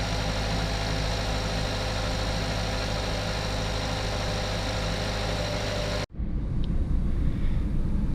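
A 2007 Mazda 3 engine, fully warmed up, idles with a steady, even rumble that cuts off abruptly near the end, leaving quieter background noise.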